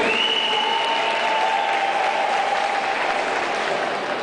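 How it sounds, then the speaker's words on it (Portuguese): Sustained applause from the crowd at a Corinthians singing contest final, for a pair of girl performers; steady clapping throughout, with a faint tonal whine running beneath it. "A salva de palmas das meninas."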